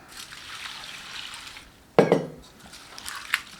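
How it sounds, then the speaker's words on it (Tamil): Flattened rice (aval) is rinsed in water in a kitchen, with a sudden close splash and sloshing burst partway through, a faint clink and trickle afterward, and no talking. "இப்போ இது ஒரு 2 தடவை கழுவிட்டு ஊற வச்சுக்கலாம்"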